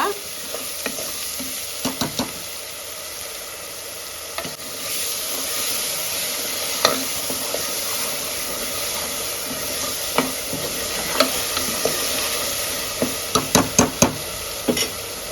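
Green chilli masala paste fries in a pan with a steady, close sizzle and hiss, punctuated by scattered spatula scrapes and clicks, with bursts of stirring clustered near the end.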